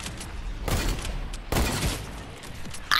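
Gunfire in the Fortnite video game, rapid bursts of shots in two dense clusters over a steady background, ending with a sharp loud hit.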